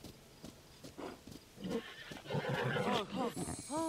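A horse whinnies in the video game Zelda Tears of the Kingdom, first with quiet hoof clip-clops under someone talking, then a clear rising, wavering neigh near the end.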